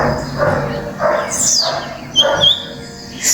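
A small bird perched in a moringa tree gives a few quick, high chirps between softer repeated calls, heard fairly close outdoors on a quiet road.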